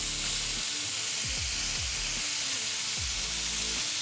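Burger patties sizzle steadily on a Blackstone griddle for a pizza smash burger, a dense, close, continuous hiss with a few low scraping or tapping sounds as they are flipped.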